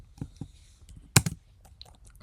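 A computer keyboard is typed on in short, sparse bursts: a couple of faint taps, then a sharper cluster of clicks close by, in an otherwise quiet room.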